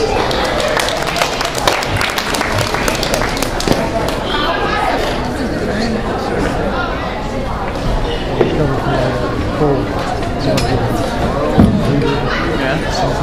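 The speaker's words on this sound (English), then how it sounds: "Give him a round of applause." Applause and chatter from a crowd at an open mic night: a steady, close wash of clapping with scattered louder claps and murmuring voices that continues throughout.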